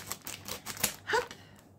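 A few sharp snips and crinkly cutting sounds, close by, as scissors work through stiff packaging; one brief squeaky rasp near the end.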